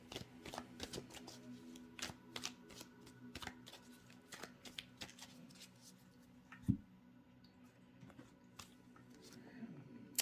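Tarot cards are shuffled by hand, giving a close, quiet run of crisp riffling flicks and taps with brief pauses, and one sharper knock near the end.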